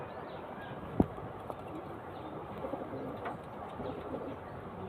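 Soft, low cooing of a male pigeon against a constant noisy background, with a single brief knock near the start.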